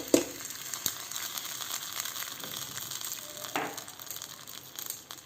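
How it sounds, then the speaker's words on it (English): A soft, steady crackle of tempering sizzles in hot oil for thavala adai batter, fairly quiet and continuous, with a few louder pops. "let the crackling sound settle a bit"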